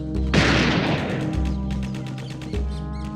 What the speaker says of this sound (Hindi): यहाँ गोलियां चल रही हैं